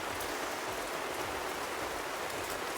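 Heavy rain pounding on a tunnel-style Lone Rider motorcycle camping tent during wet weather in Wales, a dense, constant loud patter of drops with no talk.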